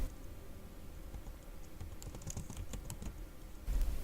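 Command being typed on a computer keyboard in a quiet room, a faint scatter of soft key clicks bunching near the middle before a brief thump at the end.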